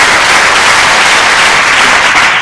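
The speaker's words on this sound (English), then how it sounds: "can we have a huge round of applause for our speakers?" A large audience gives a huge round of applause for the speakers at a business launch panel: loud, dense, sustained clapping that fills the whole stretch without a break.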